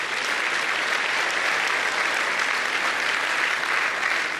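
An audience at a Volkswagen Group evening presentation in Paris applauds, a dense, continuous clapping from a large crowd that holds steady throughout.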